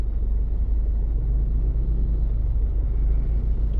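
Steady, dense road traffic rumble from cars in heavy congestion, a continuous low engine drone with no break, filling the scene throughout.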